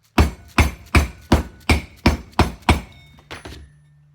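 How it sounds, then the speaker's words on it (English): A rubber hammer taps a part into a Norton Commando 750 motorcycle during restoration, eight firm evenly spaced blows close up, then a couple of lighter taps. "Rubber hammer."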